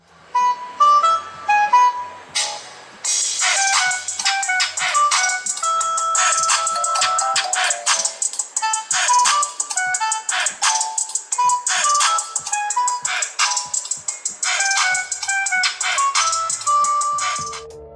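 A melodic ringtone plays through the small loudspeaker of a Samsung Galaxy Y Young phone, a bright, steady tune of quick repeated notes running for many seconds without any talk.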